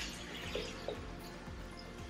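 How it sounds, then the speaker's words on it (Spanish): Tap water is poured over lettuce in a salad spinner, giving a soft continuous splash and trickle with a couple of brief louder spatters, heard close and alone. "y le vamos a poner agua"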